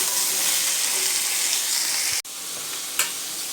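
Pieces of paneer fry in a hot pan with a loud, steady sizzle and hiss that is briefly cut off, then returns with a faint stirring knock.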